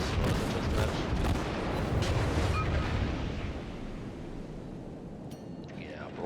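A destroyer's broadside in a naval video game: a loud rumbling salvo of heavy guns at the start, rolling on over sea-like wash before fading into a quieter hiss.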